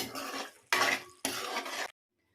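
Three bursts of a spoon stirring and scraping thick fish curry masala paste in a pan, with oil bubbling up in a Telangana-style fish curry. Close and fairly loud, followed by silence.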